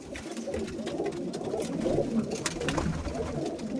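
Domestic flying pigeons cooing nearby, soft repeated throaty coos over a busy background of flapping and shuffling.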